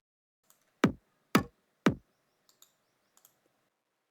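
Three sharp computer mouse left-clicks come at an even pace, then a few fainter small clicks follow in a quiet room while notes are drawn in FL Studio.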